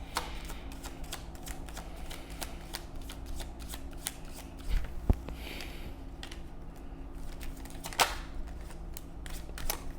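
Tarot cards being shuffled by hand, a quick run of crisp riffling and flapping bursts with a few sharper taps, close and fairly quiet over a low steady hum.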